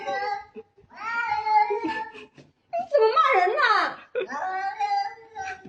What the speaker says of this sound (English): This cat was dissatisfied because the nurse injected him with medicine.